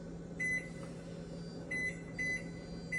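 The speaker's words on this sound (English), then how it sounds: "Oh, microwave. A minute and 30, y'all." A microwave oven running with a steady low hum and drone, joined by several short, high electronic beeps spaced unevenly, heard close in a home kitchen.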